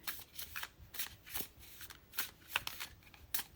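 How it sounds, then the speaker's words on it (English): Tarot cards being shuffled by hand, with a steady run of crisp riffling bursts of paper flutter repeating about every half second, close and fairly quiet with no talking. "I just feel like I have to shuffle here."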